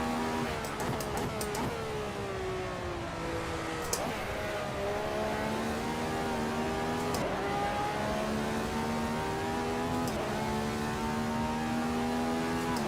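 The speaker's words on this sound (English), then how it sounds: "The real Radical has a motorbike engine in it, so it should sound more high pitched" A Radical race car with a motorbike engine revs continuously in a racing sim video game, a loud droning engine note that rises and falls through gear changes without a break.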